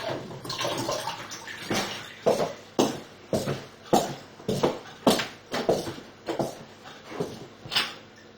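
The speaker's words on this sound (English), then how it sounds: "I have to add about 150 grams of water as well." Water poured into a bowl of drained, soaked soybeans while preparing a soybean cake batter, heard as a series of close, splashy pours in repeated bursts about every half second to second.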